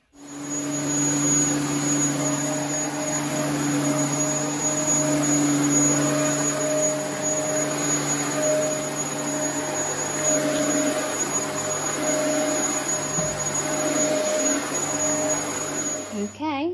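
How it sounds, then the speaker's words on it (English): A household vacuum cleaner hoovers at home in Britain, a loud, steady whine and motor drone running continuously for the whole stretch before cutting off abruptly at the end. "Right, we need to do the hoovering."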